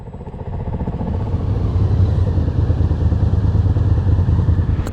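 A motorcycle rides through Baja wine-country roads near Tecate, its engine a steady, loud drone close to the mic, with a low rumble and wind throughout.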